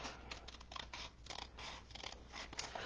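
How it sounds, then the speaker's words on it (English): Scissors snip repeatedly while fussy cutting a paper craft piece, a steady series of crisp close cuts at an uneven rhythm, fairly quiet with no talking. "we'll grab our scissors and we will just fussy cut this out"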